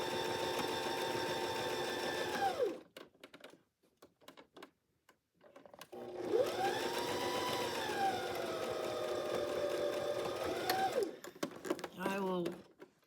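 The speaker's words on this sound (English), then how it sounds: "I'm going to sew this." Sewing machine stitching fabric squares together, running in two long steady bursts with a pause between, its motor whine rising and settling, followed by brief clicking handling noises.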